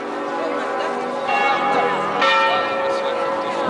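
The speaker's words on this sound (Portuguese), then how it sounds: "essas porcarias desses sinos estão tocando faz uns 10 minutos" Church bells ringing in central Frankfurt, overlapping tolls in a continuous wash, with people talking nearby over the ringing.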